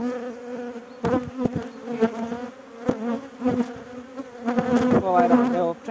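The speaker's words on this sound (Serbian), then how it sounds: "pčele su baš ljute sad" Honeybees swarm and buzz around an opened beehive during a spring inspection, an agitated, close, continuous drone that rises and falls in loudness, with no talking.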